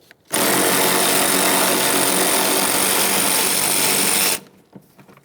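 A power tool spins out a 10mm bolt on a 1998-2011 Ford Ranger during washer reservoir removal, a loud continuous whirring rattle lasting about four seconds before stopping abruptly.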